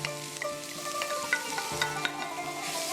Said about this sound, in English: These are finely chopped onions.